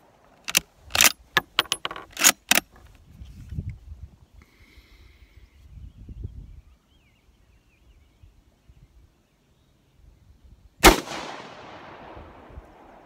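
Rifle shots fired at a paper range target: several sharp, loud cracks in a quick cluster at the start, then a quiet stretch with faint handling noise, and one more loud shot near the end with a trailing echo.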